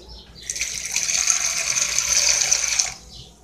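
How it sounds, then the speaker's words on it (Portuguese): A little water poured into a homemade salad dressing with lemon, a steady splashing stream lasting about two and a half seconds, close and alone. "Um pouquinho de água."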